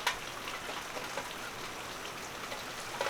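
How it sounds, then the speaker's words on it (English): A light desert rain near Tucson, Arizona patters steadily, a dense uninterrupted wash of drops with a few slightly louder spatters near the start and end, no voices over it. "Little desert rain."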